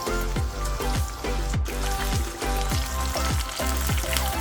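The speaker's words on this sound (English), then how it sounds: "Add in your freshly prepared wontons and fry until golden brown." Loud, continuous sizzling and bubbling of wontons deep frying in hot oil, close up, with rhythmic crackling pulses and no voices.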